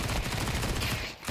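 MP9 submachine gun fire in a Counter-Strike match sounds as a fast, continuous rattle of shots, loud and close, with a brief dip near the end before the burst resumes.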